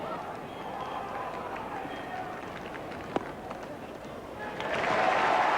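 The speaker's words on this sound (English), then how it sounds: "he gets a great round of applause from this Melbourne crowd" Melbourne cricket crowd applauds Ricky Ponting reaching his fifty, a distant murmuring applause that swells louder toward the end.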